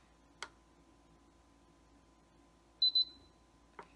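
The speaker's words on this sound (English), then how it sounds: "It'll give you that little beep indicating that it has changed to the factory settings." Instant Pot electric pressure cooker giving a short double beep when reset to factory settings, with faint clicks before and after in a quiet room.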